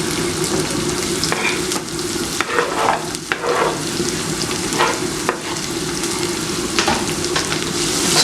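Onions fry with chilli in a pot for pilau, giving a close, busy sizzle with crackling pops. Repeated stirring scrapes run throughout, loud and continuous.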